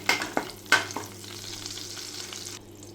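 Whole cloves, cardamom pods, cinnamon and a bay leaf crackle in hot fat while being stirred, with a few sharp scraping clicks early on over a steady low sizzle and a faint background hum.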